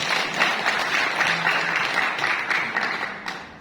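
Dense, sustained applause from a large audience at a Jawa Timur village funding event, steady throughout with no clear talk.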